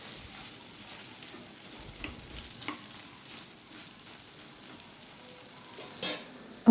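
Pieces of bottle gourd fry in hot oil in a pan while a utensil stirs them, giving a soft, steady sizzle with a few faint scraping taps and one sharper clink near the end.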